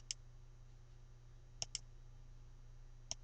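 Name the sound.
computer mouse clicking on transfer stock in POS software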